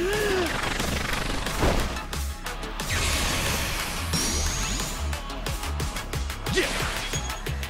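Gunshots and impacts in a Like A Dragon Infinite Wealth street fight: sharp cracks and smashing hits come in irregular bursts amid busy combat noise, with a few short game voice barks mixed in.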